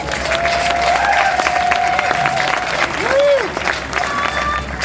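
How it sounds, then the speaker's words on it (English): An audience at a kids' camp gathering applauds the parents, with sustained clapping and some cheering and a whistle over it throughout. "So a round of applause to the parents."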